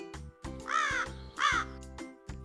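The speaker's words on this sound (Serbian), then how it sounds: "Ovo je gavran." A raven, a large all-black bird with glossy feathers, gives two harsh, drawn-out caws about a second apart, close and clear over a soft steady musical background.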